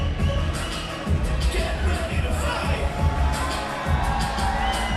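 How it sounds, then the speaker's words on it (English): A large fight night crowd at an indoor auditorium in Delhi cheers and roars in a continuous, loud wash of voices, with a commentator talking over it. "look at the crowd in absolute appreciation, enjoying the action"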